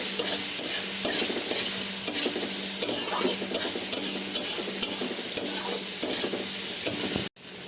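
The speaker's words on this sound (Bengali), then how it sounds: "তারপর ভালো করে এগুলো ভেজে নেব" Tomatoes with salt and spices fry in a pan while a spoon stirs them in repeated scraping strokes over a continuous sizzle, ending with a sharp clunk and a brief pause.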